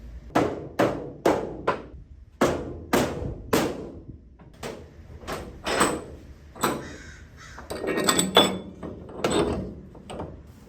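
Repeated sharp hammer strikes ring out close by on a 70-year-old Power Wagon truck under restoration, a steady run of blows at first, then a looser, more irregular series of hits.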